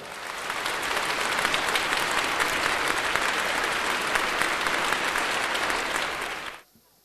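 A beauty pageant audience applauds the contestants on stage in their swimsuits. The dense crowd clapping is loud and sustained for several seconds, then cuts off abruptly.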